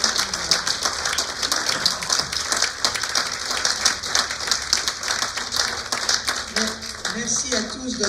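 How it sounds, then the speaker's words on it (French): An audience at the Académie de Saintonge awards ceremony applauds the prizewinners, with steady, dense clapping from many hands that fills the room evenly for several seconds, and some voices heard near the end. "je vais vous demander d'applaudir un grand, grand bravo à tous nos lauréats d'aujourd'hui"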